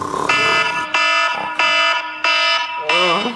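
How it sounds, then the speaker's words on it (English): An alarm clock rings loudly with five harsh, buzzing electronic bursts in quick succession, each a short tonal blast separated by brief gaps, with the last one warbling slightly. "That's why I have an alarm clock."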